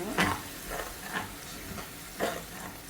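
Fish masala paste stirred in a hot pan, with a spoon scraping through it in about four or five unhurried strokes over a continuous low sizzle, close and moderately loud.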